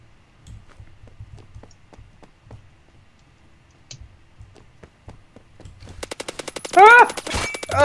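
Faint scattered taps give way to a rapid, loud burst of automatic gunfire in the Roblox shooter Phantom Forces, a dense stream of close shots with a brief whistling tone mixed in near the end.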